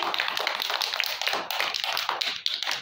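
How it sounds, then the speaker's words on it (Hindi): Two rounds of brisk hand clapping from a group of children in a classroom, rapid and crisp, with short pauses between bursts. "दो ताली मार टिके जोरे"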